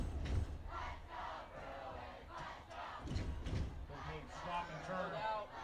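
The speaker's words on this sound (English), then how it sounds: "Crowd hyping up the Bruins." A crowd at a varsity high school homecoming football game roars and chants for the Bruins before a fourth-and-ten play, with steady crowd noise and a few louder surges throughout.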